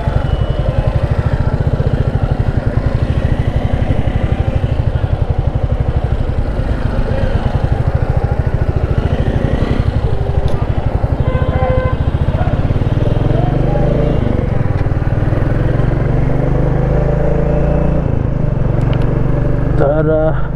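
A Royal Enfield Classic 350 motorcycle thumps steadily and loudly up close as it rides through traffic, its engine note rising and falling with throttle changes, with other road noise around and voices heard at times.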